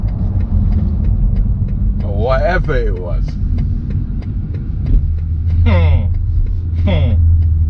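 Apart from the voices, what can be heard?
2020 BMW X3 M40i exhaust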